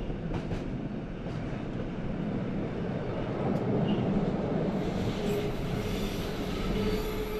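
A narrow-gauge train runs on the Chur–Arosa mountain line with a steady, loud rumble of wheels on rails. There is a faint rhythmic clatter and a thin squeal near the end, and no voices are heard.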